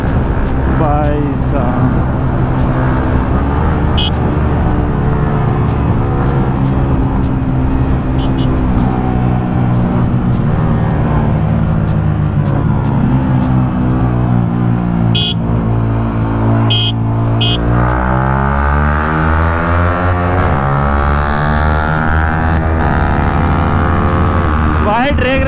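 Two vehicles rev and accelerate in an informal drag race during a Sunday group ride near Beawar, their engine notes droning and sweeping upward in pitch, loud and close, with people talking over them throughout.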